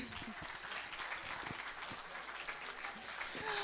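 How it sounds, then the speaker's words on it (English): An audience at a women-in-tech startup funding event applauds, steady clapping mixed with chatter and voices, moderately close and continuous, swelling slightly toward the end. "Can we give a round of applause for these people, please?"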